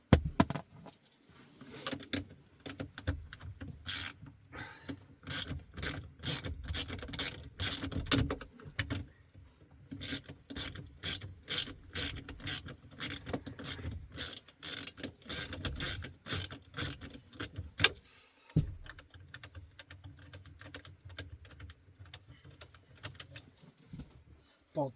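Ratchet clicking in quick repeated bursts while bolts are removed from the HVAC module of a 2011-2014 Ford Mustang, close and crisp with brief pauses between runs.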